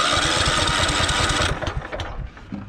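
A Husqvarna 1538 riding mower engine runs loud and steady with a regular chugging pulse, then drops in level and settles unevenly toward idle.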